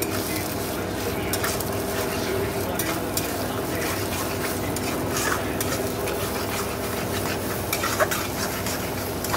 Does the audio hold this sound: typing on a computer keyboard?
no